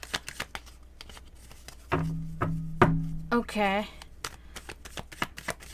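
Tarot reading cards being shuffled by hand, a quick run of crisp riffling clicks at the start, then a brief spoken word and some sustained tones, more card taps trailing off at the end.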